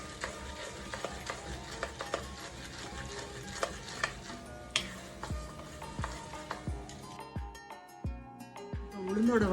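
Urad dal sizzling in hot sesame oil in a pan, a steady crackling fry with scattered clicks and stirring scrapes, fairly quiet and close.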